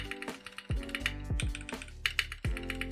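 Typing on a Sangeo60 mechanical keyboard fitted with Dirac T1 switches and new keycaps: close, fairly loud keystrokes in uneven bursts over three seconds, with sharp clacks and a few heavier bottom-out thuds.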